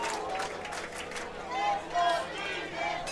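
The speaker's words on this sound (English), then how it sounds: "And you got the whole crowd cheering now" A crowd at a high school football game between Loretto and Lewis County cheers and chatters in the stands, a broad murmur of voices with a few whoops, and an announcer talks over it.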